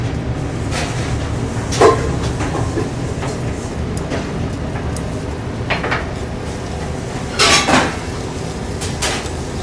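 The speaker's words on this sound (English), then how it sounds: "we're going to start cooking the legs" Cuttlefish legs cook in a pan in a Paris kitchen, giving a steady low sizzle broken by a few sharp metallic clanks of utensils against the pan.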